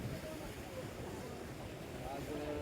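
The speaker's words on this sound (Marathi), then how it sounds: "भरपूर दाब आहे या नदीला आणि भरपूर असं पाणी येत आहे" The Kanhola river near Pothare, swollen after a month of rain and running under strong pressure, gives a continuous dense rumble and rush of water with gusty wind on the microphone, close and steady throughout.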